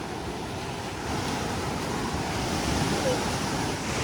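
Sea waves washing onto a shore in Siargao at high tide, a steady broadband roar of surf with wind noise, continuous and fairly loud with no clear individual breaks.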